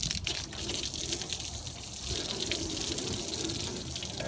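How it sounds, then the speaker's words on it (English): Steady, close water spray from a hose rinsing an aluminum boat hull after cleaner is applied, a continuous broadband hiss and splatter filling the whole stretch without pause. "go ahead and rinse it off again."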